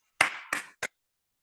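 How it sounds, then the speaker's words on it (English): Three sharp hand claps given as notice to the deities at a Hindu temple, the first two ringing a little and the last short, evenly spaced in a quiet room. "So if we don't have a bell, you can clap 3 times."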